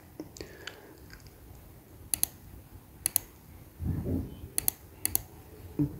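A computer mouse clicks in an Excel spreadsheet: a handful of sharp, quiet clicks, some in quick pairs, over a faint room hiss and soft rustling.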